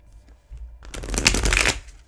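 A quick riffle of a tarot deck being shuffled, a brief fluttering burst up close.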